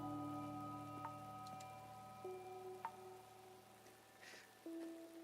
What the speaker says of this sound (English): I also love the sound of rain.